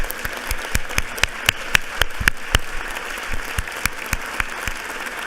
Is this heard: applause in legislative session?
yes